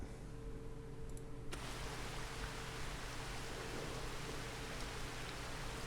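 Rain falling in a farming video game, a faint, even hiss of steady rainfall that becomes broader and fuller after the first second and stays constant.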